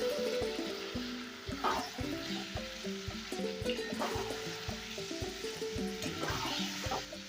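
Mutton sizzles as it is sautéed and stirred in a pan for a red Bengali mutton curry, with a continuous frying crackle, scraping stirs and a soft tonal backdrop underneath.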